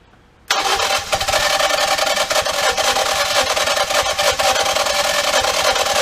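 A 2018 Ford Escape with a misfire and suspected water intrusion cranks after a short quiet start, the starter churning in a fast, even rhythm that grinds on loud and close for several seconds without the engine catching.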